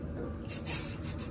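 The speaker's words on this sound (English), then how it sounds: "spray it. Sometimes I'll lift here, spray a little, and then just kind of like spray it through the hair" Living Proof Dry Volume Blast hair spray hisses in a few quick close bursts onto hair, a brief soft spray followed by two more short puffs.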